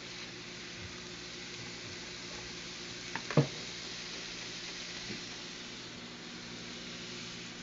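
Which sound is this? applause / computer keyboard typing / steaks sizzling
steaks sizzling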